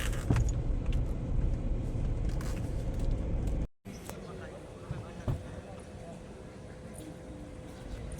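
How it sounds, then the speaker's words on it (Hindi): A car being driven into a shaded parking ground near Junagadh Fort in Bikaner, its engine rumbling steadily before cutting off abruptly, followed by quieter outdoor ambience with a few clicks and knocks and someone talking. "छाँव में लगा देता हूँ गाड़ी यार कहीं पे, यहाँ ठीक रहेगा"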